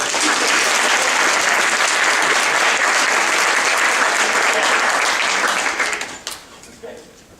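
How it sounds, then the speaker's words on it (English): An audience at a theatre talkback gives a long, dense round of applause that holds steady for about six seconds, then thins out and fades with a few last claps, with some voices faintly underneath. "Let's give a round of applause for that."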